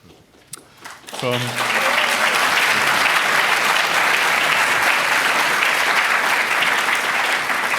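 An audience at an academic lecture bursts into sustained, loud applause welcoming Professor Robert O. Keohane, rising after a brief spoken moment and holding steady to the end.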